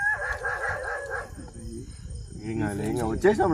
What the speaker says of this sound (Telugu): వీడికి రాగానే విపరీతంగా కుక్కలు అరుస్తున్నాయి.